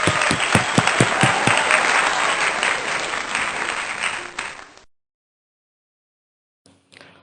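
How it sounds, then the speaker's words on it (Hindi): Applause from a congregation at a Sunday church worship service, a loud steady burst of many hands clapping for about five seconds that fades out, followed by silence and a brief faint sound near the end. "तालियां।"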